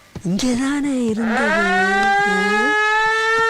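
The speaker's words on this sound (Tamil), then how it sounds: "என்னடா அது கிளம்பும் போது சங்கு சத்தம்?" A loud civil-defense-style siren rises and then holds a steady wail for several seconds, with a voice speaking briefly over its start.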